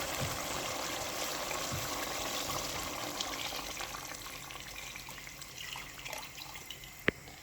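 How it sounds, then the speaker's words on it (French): Water pours steadily into a cooking pot of basmati rice for beef biryani, a continuous even splashing wash that fades slightly near the end, followed by a single sharp clink. "On va venir ajouter 9 pots d'eau."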